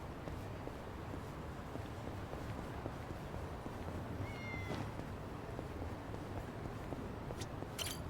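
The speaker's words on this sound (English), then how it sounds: "Where's that cat?" A cat in Yakuza: Like a Dragon gives a brief, faint meow over a steady background of in-game ambience.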